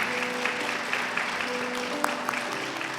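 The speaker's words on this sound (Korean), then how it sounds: "우리 큰 박수를 부탁드리는데요" Congregation applause fills a church hall during an elder ordination and retirement service, a steady wash of clapping with a few sharper claps standing out.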